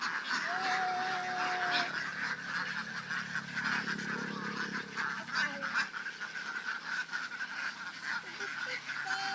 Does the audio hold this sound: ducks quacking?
yes